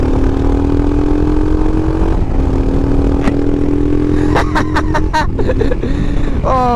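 A Royal Enfield Himalayan single-cylinder engine with a Lextek exhaust, baffle removed, idles with a loud throaty thump, then gets several sharp throttle blips that rev up and fall back close by.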